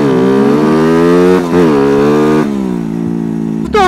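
A GLX motorcycle engine revving hard and close, loud sustained throttle with pitch rising and falling in a few pulls, ending in a sharp blip.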